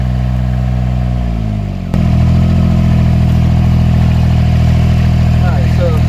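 A John Deere 430 tractor hooked up to pull a Tennant lot sweeper drones loudly nearby; its engine note drops as it is throttled down, then settles into a steady lower hum.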